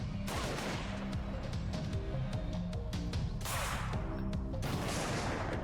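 Gunshots in the video game Dead Age II: a handful of sharp, widely spaced cracks over a steady low game ambience, moderately loud with no voices.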